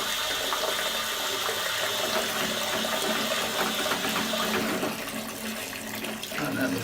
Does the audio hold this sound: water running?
yes